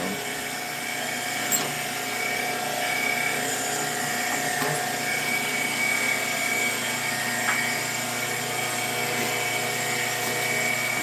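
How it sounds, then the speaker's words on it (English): Woodturning lathe spinning at about 1400 rpm with a live center whose bearings are worn, giving a steady, close mechanical whine with a rough, grinding hum that holds unbroken throughout. "Plus this live center, I think the bearings are shot in that guy. Doesn't sound very good."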